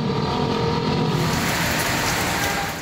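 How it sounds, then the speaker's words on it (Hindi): A heavy monsoon rain shower pours down in Pakistan, a dense, loud, continuous hiss of rainfall hitting surfaces with no voices. "बारिश की बौछार हुई तो जल थल एक हो गया।"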